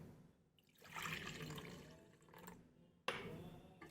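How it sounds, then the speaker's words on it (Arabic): Water pours into a homemade cleaning mixture in a container, a soft irregular gushing and trickling that swells and fades, then a sharper splash near the end, close and quiet with no talk. "بعد كده هنزودها ميه"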